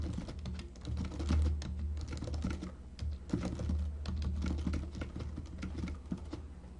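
Steady typing on a computer keyboard, a fast, quiet patter of key clicks running continuously with no talking.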